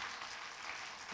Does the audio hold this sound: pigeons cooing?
no